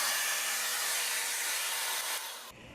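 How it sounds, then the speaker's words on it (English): Vacuum cleaner pushed across a floor, a loud steady broadband whoosh that drops off abruptly as it shuts down near the end. "first I'm going to do a pass with the vacuum just to see"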